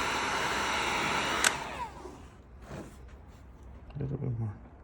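A heat gun blows a steady loud whooshing hum while it heats a part on a truck in a shop, then cuts off partway, followed by quieter handling noises and someone talking.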